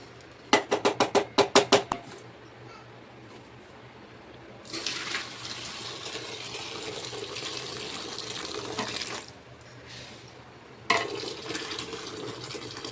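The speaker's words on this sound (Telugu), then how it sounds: "వాటర్ తీసేస్తున్నారు, పైనుంచి సపరేట్ చేస్తున్నారు." Cooking water being poured off pressure-cooked toor dal: a series of quick metallic clinks at the start, then a soft steady pour of liquid in two stretches with a pause between, fairly quiet.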